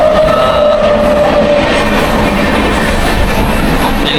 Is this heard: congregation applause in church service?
no